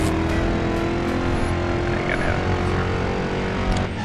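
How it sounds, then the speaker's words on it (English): Rear wheels of a 1973 Mustang Mach 1 spin and lose traction in the Driver San Francisco racing game, a steady, loud engine roar with a low rumble that runs unbroken for the whole stretch, with no talking. "You can hear the rear wheel spinning a little bit there."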